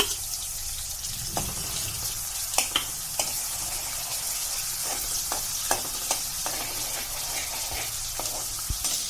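Crushed garlic and green chillies frying in oil, a bright steady sizzle up close with scattered clicks and scrapes of a spatula against the pan.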